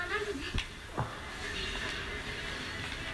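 A horse in the Attack on Titan 2 video game whinnies, with a couple of sharp snorts and hoof sounds over steady game background noise, close and moderately loud.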